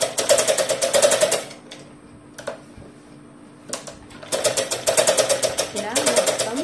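A sewing machine runs in two loud bursts of rapid, even stitching on a frock, separated by a quieter pause with a few brief clicks, with some talk at the end.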